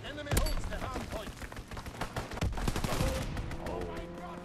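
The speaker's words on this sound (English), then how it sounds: "Enemy strafing run inbound." Rapid aircraft gunfire from an enemy strafing run in Call of Duty, with dense sharp cracks and booms piling up close and loud, and voices over the barrage.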